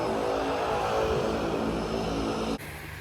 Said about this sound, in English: Oh, this plane is quite loud. I think it's just coming in now.